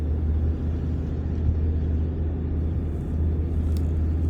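A Land Rover Discovery 2 crawls slowly off-road across desert terrain on tyres aired down to 11–16 psi, its engine giving a steady, close, low rumble that holds an even level throughout, with no voices.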